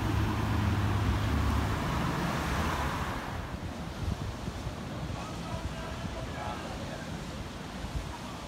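Ocean surf rolls in at Newport Beach in Sydney's Northern Beaches, a broad continuous wash buffeted by gusty wind noise, with faint traffic in the background.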